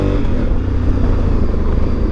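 A 2020 Honda Africa Twin CRF1100L riding on a closed course with its stock exhaust and valve, a loud, close, steady engine drone and rumble that holds on without a break.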